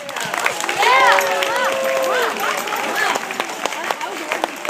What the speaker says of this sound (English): let's have a round of applause for the fifth graders